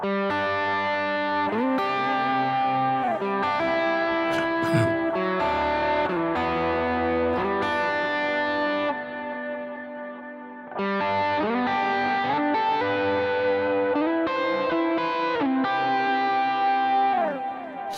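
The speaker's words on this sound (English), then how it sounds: "the compression into maybe a drive, into one delay, a second delay, and then the reverb" Sustained worship-style electric guitar chords through compression, drive, two delays and reverb, notes swelling and trailing into each other, with a brief dip before the ambient playing resumes.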